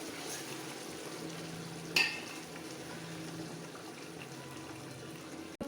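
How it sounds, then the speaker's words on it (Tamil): Steady bubbling and simmering of chicken gravy for biryani in a pot, a continuous soft churning hiss with a brief clink partway through. "தண்ணி நல்லா கொதிச்சிட்ருக்கு"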